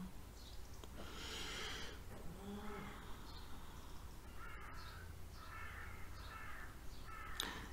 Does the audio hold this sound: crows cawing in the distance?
yes